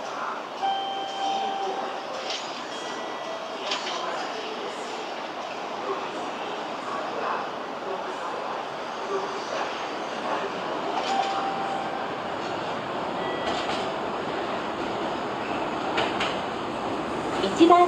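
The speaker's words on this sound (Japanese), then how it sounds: "1番線に電車が参ります。" A two-car Meitetsu 6800 series train rolls into a station platform with a steady rumble, soft rattling and faint squeals, while indistinct voices carry in the background.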